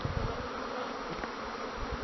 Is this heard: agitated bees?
yes